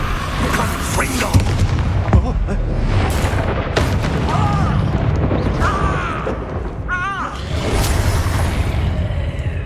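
Fire-blast spell explosions from the Hogwarts Legacy video game: repeated booming bursts and crackling impacts within a dense, continuous battle soundscape, with voices calling out around them.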